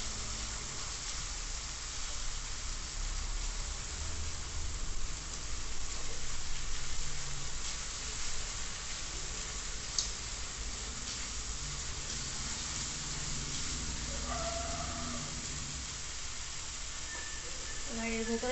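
Ginger paste, cashews and green chilli paste frying in a pan, giving a steady, even sizzling hiss that runs throughout, fairly faint, with a voice speaking over it at times.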